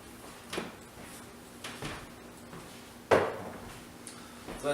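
An oven door opens with a sharp clunk about midway, surrounded by softer kitchen handling knocks and clatter while bacon-wrapped scallops go in to bake.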